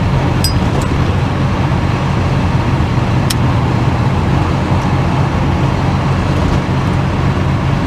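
A Holden HK cruises along a Queensland-to-Victoria highway, heard as a steady in-cabin engine drone and road rumble, loud and unbroken with only faint clicks and rattles on top.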